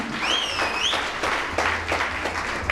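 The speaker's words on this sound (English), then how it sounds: "there should be a big round of applause for everyone." Audience applause for students at a college talent hunt event, a sustained round of crowd clapping heard in a hall with some background voices.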